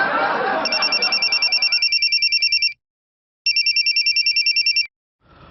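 A telephone rings in two bursts of rapid electronic trills, clear and fairly close, with a short silence between; indistinct background noise fades before the first ring.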